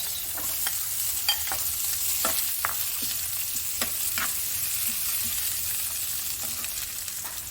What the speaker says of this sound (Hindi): मैंने थोड़ा सा ऑयल डाला है और अब इसमें मैं डाल देती हूँ कटा हुआ प्याज